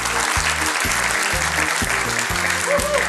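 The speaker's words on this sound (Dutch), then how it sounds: "Geef haar een voorzichtig applaus." An audience applauds at a Maastricht student competition, with steady, moderately loud clapping throughout and a rhythmic low beat of background music underneath.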